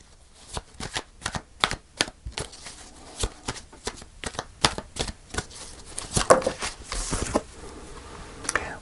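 Tarot cards shuffled by hand in a series of crisp riffles and taps, with irregular bursts through the whole stretch and a slightly heavier flurry near the end, close and clear with no talk.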